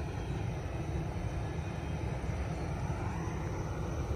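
A steady low rumble of a long Norfolk Southern intermodal freight train rolling past, constant and fairly close, with no voices.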